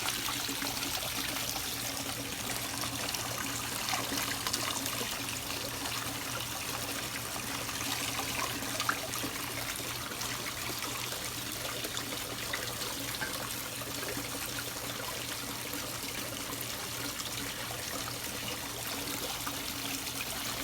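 Water churns steadily through a DIY Pepsi bottle fluid bed sluice, a continuous close rushing trickle with no pauses and no talk.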